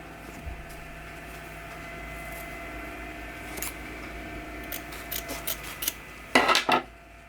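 Scissors trimming the ends of burlap wreath ribbon on a diagonal for a Christmas wreath give faint, crisp snips, quiet at first and then a louder cluster of quick cuts near the end, with no talking.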